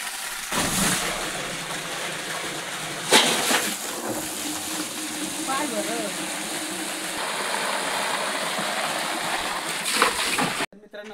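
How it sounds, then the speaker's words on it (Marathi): A newly fitted 1 hp submersible jalpari pump sends water gushing and splashing in a steady, loud broadband rush that runs almost without a break, with faint voices underneath. "तिकडे पाणी उडाला।"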